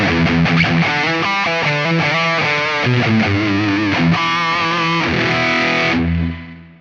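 Distorted electric guitar phrase through a Line 6 Helix Das Benzin Lead amp model, with vintage delay and plate reverb, loud and up close, ringing out into a fading tail.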